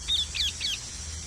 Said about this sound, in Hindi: अरे ये तो तोता है पिंजरे में।